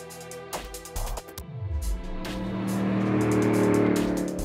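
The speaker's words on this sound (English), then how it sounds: "here we have the 2014 Camaro Z28. 505 horsepower from an LS7 V8" A 2014 Chevrolet Camaro Z28 with a 505-horsepower LS7 V8, a stripped-down track-focused street car, revs in short bursts, then accelerates hard in one long rising pull that stays loud and close.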